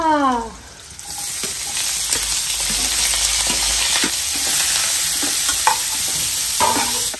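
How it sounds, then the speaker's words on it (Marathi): Crushed garlic and onion frying in hot oil in a pan, a loud, dense sizzle that begins abruptly and holds steady, with occasional stirring scrapes and taps, close and continuous. "मग आपण त्याच्यात टाकूया लसूण ठेचलेला. मग आपण ह्याच्यात टाकूया कांदा."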